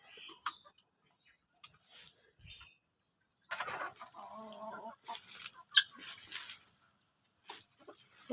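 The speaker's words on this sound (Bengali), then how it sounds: "এগুলা কি তিতির মুরগি বলে?" Guinea fowl kept on a home farm in Bangladesh give several clucking, chattering calls in short irregular bursts at close range, with quiet gaps between them and no talking.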